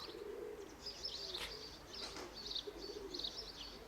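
Soft pigeon cooing, low and throaty, repeated in a gentle rhythm with faint chirps over quiet outdoor background.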